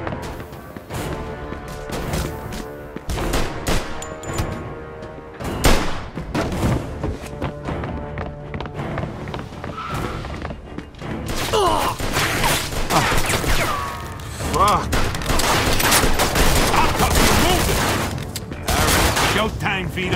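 Gunfire in the video game Mafia II comes as heavy, repeated bursts and thumping shots across the whole stretch, dense and loud, with a voice speaking over the shooting.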